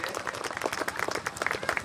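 An audience at a national emblem festival event in Ashokpur Allipur breaks into brief, fairly close applause, a short burst of uneven hand claps.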